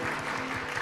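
Brief burst of dense, steady clapping from a church congregation during a Sunday worship service at Jeju Seongan Church, filling the room evenly without pauses.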